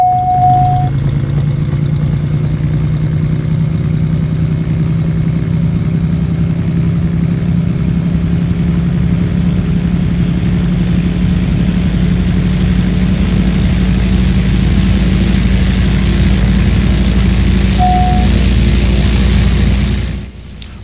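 The Carenado SR22's piston engine idles in X-Plane 11, a loud, unbroken low drone with a steady hum and a faint higher whine, holding evenly before cutting off abruptly at the end.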